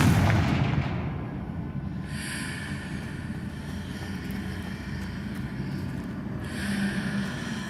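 In Hogwarts Legacy, a Confringo spell blasts with a sharp burst, followed by a sustained roaring, crackling rumble that holds steady for several seconds with bright hissing layers above.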